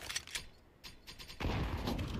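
Bursts of rapid gunfire from a video game, sharp cracks early on giving way to a louder, sustained barrage near the end.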